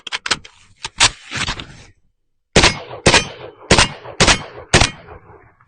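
A Galil Ace 5.56 rifle fires outdoors in snow during a training drill. Sharp, loud shots come in irregular clusters, with a short silent pause partway through.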